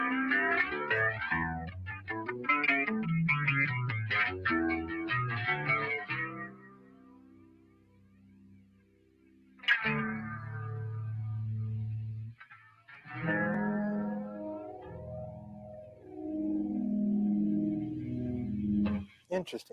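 A bass guitar with a built-in flanger and other onboard effects plays sweeping, swirling phrased notes, with pauses and a sudden louder attack midway.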